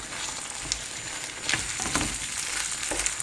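Savory crepe filling being stirred in a pan over heat, a steady low sizzle with soft scraping strokes of the spoon, close and continuous with no voices.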